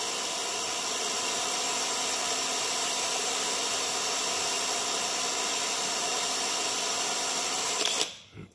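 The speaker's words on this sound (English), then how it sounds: "So I just take this 40 grit sandpaper and I make it round." Coarse 40 grit sandpaper rounding a pool cue tip spun in a drill, a steady close whirring, rasping hiss that runs unbroken for about eight seconds and then cuts off abruptly.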